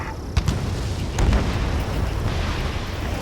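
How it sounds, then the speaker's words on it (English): Ace Combat 7 video game scene of gunfire and jet roar over a city under martial law, a dense continuous rumble with a few sharp booming bursts. "Gunfire and the roar of jets echoing through the streets."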